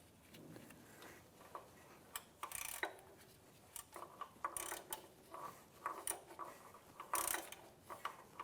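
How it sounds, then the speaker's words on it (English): Quick bursts of ratchet clicking while bolts are snugged down during a 2007-2014 Acura MDX drive belt component replacement, faint and close, with short pauses between runs of ticks. "now we're going to tighten these down"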